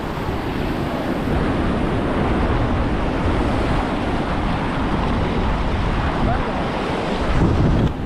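Continuous roar of sea surf breaking on a Mumbai beach at high tide, steady and loud throughout, with wind buffeting the microphone and no voices.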